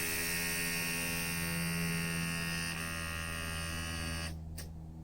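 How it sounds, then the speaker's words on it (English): An electric vacuum pump for the brake booster of a Mitsubishi 3000GT converted to Tesla power runs with a steady, close electric whine and hum, then briefly cuts out near the end. "I'm just gonna plug this pump in directly to power through this fuse here and see if it runs"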